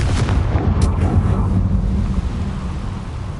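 A Confringo blasting spell explodes in Hogwarts Legacy, a loud, deep rumbling boom like thunder that rolls on steadily for the whole stretch and fades slightly at the end.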